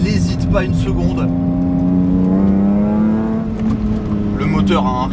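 A BMW M3 E46 Touring engine pulls hard on a wet road, its tone rising steadily through the revs and then easing, loud and close, with a voice talking over it.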